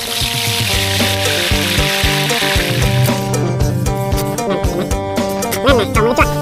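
Crispy catfish sizzling in hot oil for a Thai pad cha, a steady frying hiss under prominent background music and a voice speaking.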